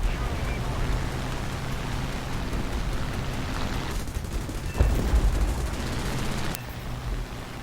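A Hurricane Mk1 fighter's guns rattle in a War Thunder air battle against a Ki-61, dense crackling bursts over a steady engine roar, with an abrupt louder burst partway through.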